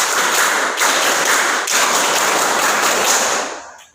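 A scout troop's rhythmic group clap (tepuk pramuka), a dense, loud burst of many hands clapping together in pulses, stopping abruptly at the end.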